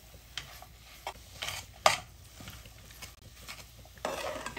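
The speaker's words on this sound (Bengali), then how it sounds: "আমি দুধটা দিয়ে খুব ভালো করে গাজরের হালুয়াটা মিশিয়ে নিচ্ছি" Carrot halwa mixed with powdered milk is stirred in a pan over a low flame, giving soft intermittent scrapes and a few sharper clinks of the spoon, quiet and close with no voices.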